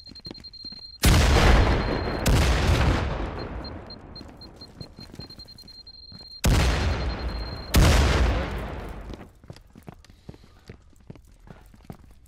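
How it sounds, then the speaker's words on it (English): Grenade explosions in a video game arrive as two pairs of heavy, close booms, each blast trailing off in a rumbling decay, with quiet gaps and faint scattered clicks between them. "Oh, grenade incoming."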